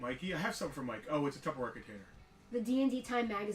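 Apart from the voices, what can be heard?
No everyday noises stand out.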